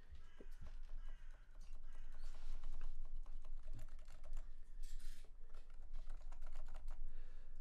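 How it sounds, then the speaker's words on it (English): Rapid, steady typing on a Leopold FC660C silent Topre keyboard, soft muted clacks in a continuous flurry, recorded up close with no voices. "Maybe I should make some typing test."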